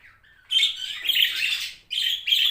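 A pet budgerigar that has just laid eggs chirps in bright, close bursts: a short warble, a longer scratchy chatter, then two more quick tweeting phrases with brief gaps between.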